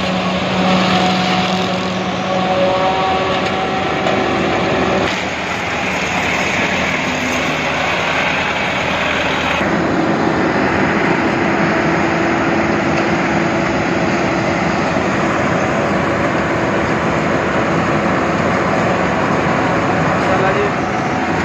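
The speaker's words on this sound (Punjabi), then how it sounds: "ਹਾਂਜੀ, ਆਹ ਜੀ ਕਲਾਸ ਦੀ ਮਸ਼ੀਨ" A German-made Claas 820 silage machine runs in the field, its loud, continuous engine drone steady and close throughout, with a slight shift in tone partway through.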